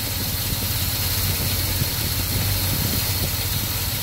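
A car engine fitted with a Holley carburetor idles steadily and loudly, a continuous rumbling drone with a slightly uneven, running-okay character throughout.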